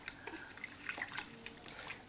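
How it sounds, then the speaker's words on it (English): A baby boy sitting up in a tummy tub makes soft, intermittent water splashes and drips, close and fairly quiet, with no talk during the moment. "You can have a splash."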